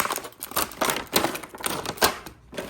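Packaging being ripped away from a car amplifier wiring harness during a sound system install on a fifth-generation Ram pickup, a run of crinkly tearing and rustling bursts, close and fairly loud, with no talking.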